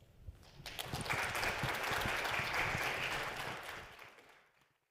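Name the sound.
audience applause for speakers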